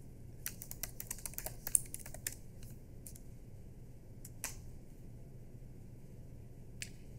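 Rapid bursts of typing on a computer keyboard while entering commands in a terminal, quiet and close, with clusters of clicks early on, then scattered single keystrokes and long pauses.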